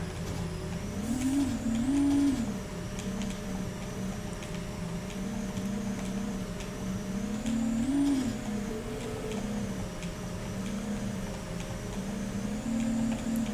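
Tiny cars racing on dirt in the NES game Micro Machines, a continuous buzzy chiptune-style engine whine that rises and falls in pitch as the cars rev and turn.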